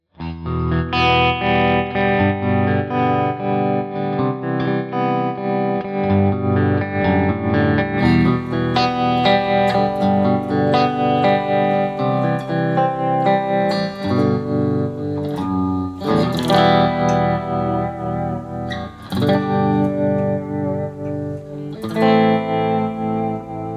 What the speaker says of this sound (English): this is what arguably matters most, some nice chunky riffage